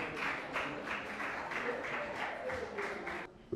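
Audience applause at a live stage contest event, a steady wash of clapping from a crowd that fades out near the end, with voices audible underneath.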